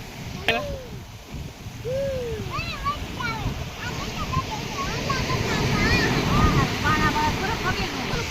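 Large ocean waves wash ashore at Mastram Beach in a broad, rushing hiss that swells toward the end, with voices calling and chattering over the surf.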